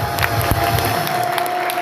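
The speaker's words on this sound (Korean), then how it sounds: "여러분들이 저에게 위로의 박수를 보내주십시오" An audience at a conservative Christian gathering applauds and cheers a speaker, crowd clapping mixed with shouts and scattered voices throughout.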